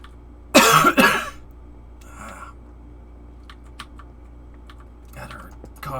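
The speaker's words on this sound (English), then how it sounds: "Coughing hurt a little bit." A sudden burst of close, harsh coughing, two quick fits in a row, then quiet keyboard clicks and a muffled cough-like sound later.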